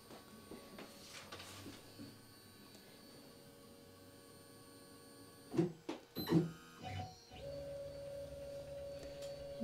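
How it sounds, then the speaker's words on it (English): An Onefinity CNC machine homing, its stepper motors whining steadily as the gantry travels to its limits, with a few louder clunks and shifts in pitch as each axis reaches its end and backs off, close and alone. "we can go ahead and home the machine"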